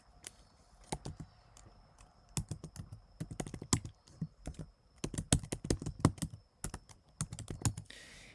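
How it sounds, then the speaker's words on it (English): Keys on a keyboard are tapped in quick, uneven bursts of crisp clicks while an email address is typed in, close and fairly quiet, with short pauses between runs. "I'm going to type the email like iCloud account"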